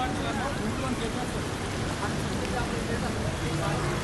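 Heavy rain pours down in Hyderabad, a dense, unbroken hiss of falling water that stays level throughout with no distinct drops or pauses.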